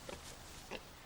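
Two short grunting oinks from a pig, faint and a little distant, spaced about half a second apart over quiet background noise.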